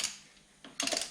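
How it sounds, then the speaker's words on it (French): A ratchet with a 19 mm socket loosens a bolt on a Ford Mustang brake assembly. One short burst of clicks comes up close, then a brief pause, then a second longer run of clicking. "une douille de 19. Et on desserre un petit peu"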